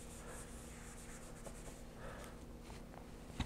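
An eraser rubbing across a classroom board, giving a soft, steady scrubbing hiss in continuous back-and-forth strokes, close by with no speech, ending in a brief knock.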